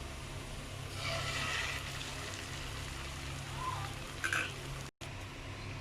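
Onions sizzle in a pan of hot oil with a steady crackling hiss, a brief clatter near the end, fairly close and alone.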